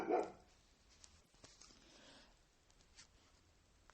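A small pet dog barks once, loud and close at the start, and then only faint scattered noise follows with no further barking.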